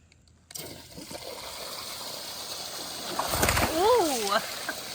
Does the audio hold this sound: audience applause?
no